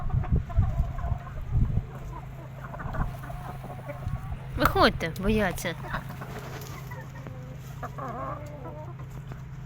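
Chinese silkie hens and a rooster cluck in bursts outdoors on grass, with a steady low hum underneath and a few spoken words mixed in.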